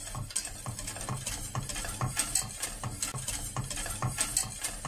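A utensil stirs a tomato peel mixture with starch, sugar and salt in a pan, giving steady rhythmic scraping and clinking strokes close up, with no voices.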